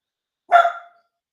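A single dog bark, short and fairly loud, standing alone against silence with a quick sharp onset and fading tail.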